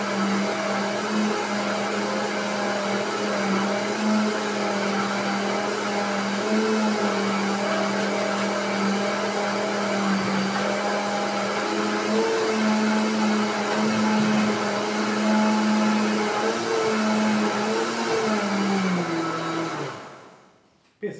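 A blender whirs steadily as it mixes chocolate cake batter for a bolo prestígio, running with a loud constant motor drone and a shifting pitch for about twenty seconds before cutting off abruptly.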